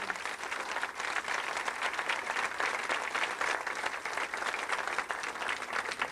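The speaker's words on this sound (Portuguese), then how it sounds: "Transfiro todas essas palmas para o meu Jesus." An audience applauds at a church testimony event, sustained, dense clapping from a crowd that holds at an even loudness with no pause.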